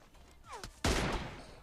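Gunfire in PUBG Mobile, a single loud close shot that cracks sharply and rings out in a decaying tail after a short whistling sweep.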